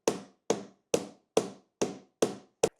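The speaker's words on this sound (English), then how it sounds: "Get that washer nice and flat. Couple hits to flatten it out." A hammer strikes a metal washer on a hard surface seven times in a steady rhythm to flatten it, each sharp, close knock ringing briefly before the next, with no voices.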